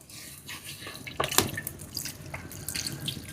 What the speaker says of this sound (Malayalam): വെള്ളം ഒഴിക്കണം കേട്ടോ